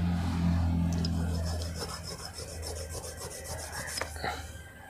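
A lotus seed is rubbed against a rough surface to scarify it, making a quick run of gritty scraping strokes close up after a low hum.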